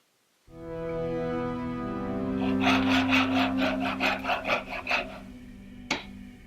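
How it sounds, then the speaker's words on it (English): A wooden acorn door stop is sanded at 120 grit, starting with a steady hum of a running machine, then rhythmic rasping strokes of the sandpaper growing louder and regular before stopping, with a sharp knock near the end. "I just generally sand at 120 grit."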